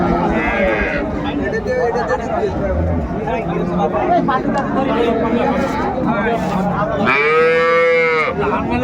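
At the crowded Ambari haat cattle market, busy chatter and voices fill the air before a dairy cow with her calf bellows one loud, long moo near the end, close and rising over the crowd.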